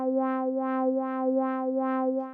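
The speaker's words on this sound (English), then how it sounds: "but we are just using one LFO on the filter" Synth bass tone with a single LFO sweeping the filter cutoff and resonance, giving a steady pulsing wah about five times in a couple of seconds, heard alone and clean.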